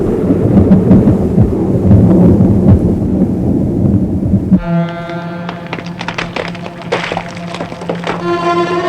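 Thunder from a storm rumbles as a radio drama sound effect, a heavy low roll dominating the first half before giving way to a quieter, tonal background with scattered crackles.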